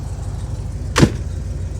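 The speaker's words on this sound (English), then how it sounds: "Door closes nice and solid." A 1974 Chevrolet Corvette, a frame-off restoration with a rebuilt 454 V8, has its door swung shut in one brief, solid thump over a steady low idle rumble.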